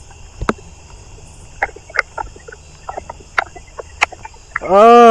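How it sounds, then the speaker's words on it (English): A Davis's tree cricket trills faintly and high in a neighborhood outdoors amid scattered sharp clicks, before a loud harmonic call abruptly breaks in at the very end. "I'm starting to hear a Davis's tree cricket."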